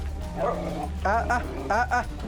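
Dogs barking and yipping in a kennel-like setting, a couple of sharp bursts rising over a low hum, with a voice speaking at the start.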